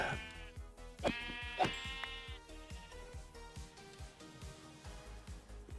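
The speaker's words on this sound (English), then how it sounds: "One more white sheep, come on." Several sheep bleats in a video game ring out over rhythmic background music, clear and close, with a couple of sharper clicks between them.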